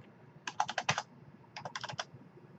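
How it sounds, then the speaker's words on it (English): Typing on a computer keyboard to enter a new RPM value for a Z1 dashboard shift light, two quick bursts of crisp, close keystrokes separated by a short pause, with no talking. "I can just go type in a new one"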